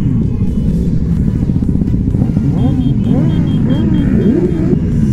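A rally of about 140 motorcycles rides in a group, giving a loud, continuous engine rumble with overlapping revs and passing bikes close by.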